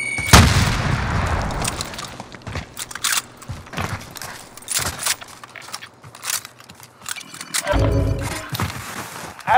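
A frag grenade goes off in Call of Duty: Modern Warfare with a loud, deep boom at the start, then scattered gunfire cracks and another heavy blast near the end over game background noise.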